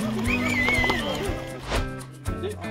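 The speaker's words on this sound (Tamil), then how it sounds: "இது மேலே ஏறுது குதிரை" A horse climbing uphill in Pahalgam, Kashmir, gives a high, wavering whinny near the start, with hoof clops and scrapes over the rest, all close and fairly loud against outdoor background noise.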